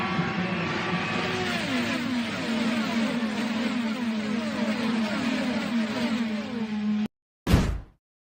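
IndyCar race cars scream past at speed, a continuous loud roar with sweeping pitch changes from several engines, cut off abruptly near the end, followed by a brief whoosh.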